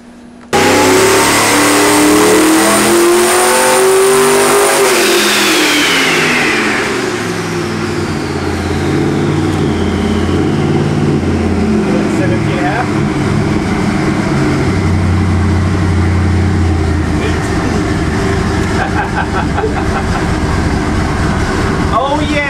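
A Nelson Racing NRE 632 twin-turbo engine running on pump gas at about 14 pounds of boost roars loudly on a dyno, its pitch climbing hard and then holding a sustained, throbbing drone. The engine is close and dominates throughout, with no talk over it.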